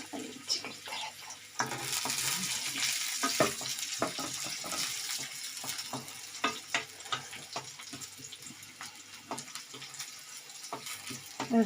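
Green chilies fry in a pan with ginger as a base for paneer cutlets, making a soft, close crackle and sizzle with frequent scraping stirs and clinks, fairly quiet overall.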